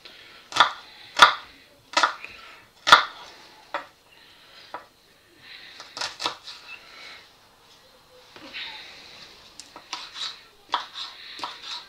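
Knife chopping food into small pieces while cooking squid and shrimp Provençal, sharp irregular cutting knocks in quick clusters separated by short pauses, close and crisp.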